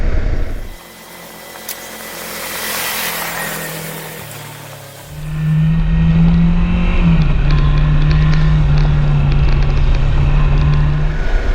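Kawasaki Versys X300 motorcycle riding a dirt road, wind rush giving way to a loud, steady engine drone that holds near and close for several seconds.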